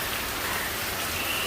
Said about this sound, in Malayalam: പക്ഷെ മഴ ഇങ്ങനെ നിൽക്കുന്നുണ്ട്.